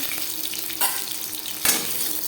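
Marinated Bhola fish frying in a pan, a continuous soft sizzle with two brief louder bursts of hissing crackle, no talking.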